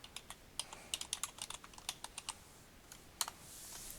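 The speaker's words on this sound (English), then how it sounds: "The other way you could do that is just type right in search." Crisp, close keystrokes on a computer keyboard while typing into a search box, an irregular run of a dozen or more clicks in quick bursts with brief pauses, no voices.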